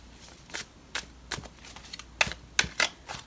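Tarot cards being shuffled by hand produce a run of crisp, irregular riffling snaps and flutters, several quick bursts spaced across the moment, close and fairly quiet.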